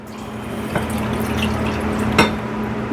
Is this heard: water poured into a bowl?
yes